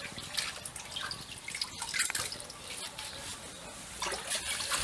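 Freshly picked spinach is rinsed in water for a second wash in a Greek village kitchen, giving close, uneven splashing, dripping and trickling with small rustles and no clear speech.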